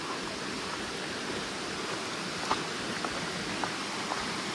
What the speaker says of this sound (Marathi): खळखळणारं पाणी, सुखात सुख आपण म्हणू शकतो, ते देऊन जात आहे